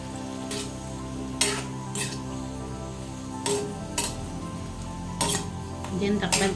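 Malunggay leaves tumble into a pan of pinakbet, setting off a steady sizzle broken by a few sharp utensil scrapes and clinks against the pan, close and moderately loud.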